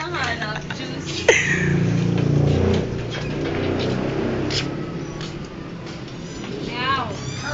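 A cat meows a few times close by while people talk in Filipino over a meal. Short rising and falling cries come through the voices, most clearly toward the end.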